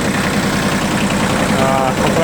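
Kubota B40 mini tractor with a three-cylinder diesel engine idling close by, a steady, even rumble with no pauses.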